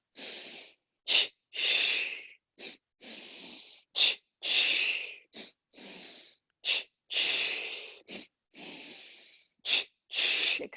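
Forceful breathing in a yoga flow, sharp paired sniffs in through the nose alternating with long breathy exhales through the mouth, loud and close in a steady repeating rhythm.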